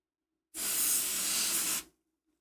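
Freeze spray blasts onto video card components as a single loud hiss of about one and a half seconds, starting and stopping abruptly against silence.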